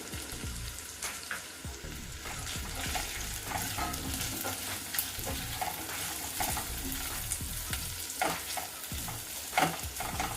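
Boiled jackfruit seed pieces go into a frying pan and are stirred, giving a faint, continuous sizzle broken by repeated light scrapes and clicks.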